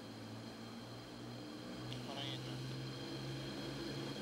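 Douglas Dakota propeller aircraft (1935) with engines running for takeoff: a steady, loud, throbbing drone heard from inside the aircraft, holding constant throughout.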